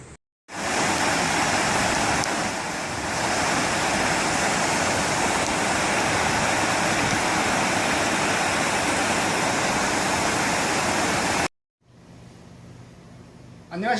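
Steady rushing water of a mountain creek, a continuous broadband roar running loud and close for most of the stretch before cutting out to quiet outdoor ambience near the end.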